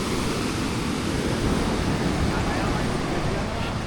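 Water rushes and churns through rock pools at Big Bay, Toco, a steady broadband wash like surf, loud and close, running the whole time without a break.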